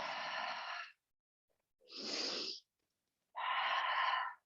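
Three heavy, drawn-out breaths, each about a second long with pauses between, close and loud, from someone winded during a leg workout of squats and high-knee swings.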